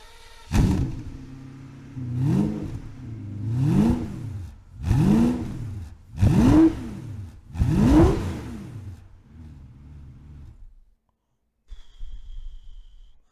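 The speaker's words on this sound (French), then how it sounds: "On peut écouter le bruit des moteurs des voitures. Pagani Zonda S, 7 litres." Pagani Zonda S with its 7-litre engine revving in about six sharp, rising-and-falling blips close up, then settling to a brief idle before cutting out, with a faint sound afterward.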